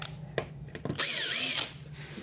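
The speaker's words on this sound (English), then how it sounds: "I'm just going to unscrew this" Cordless power drill unscrewing the screws holding a circular saw guide on a wood trim project: short clicks, then a close, loud whirring burst of about half a second that winds down.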